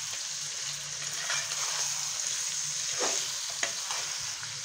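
Chicken fries with spices in a pan, a steady close sizzle and hiss with occasional scraping stirs and soft wet crackles, with no voices.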